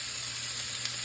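Meat sears in olive oil in a pan, giving a steady, fairly quiet sizzle with a constant hiss and no talk over it.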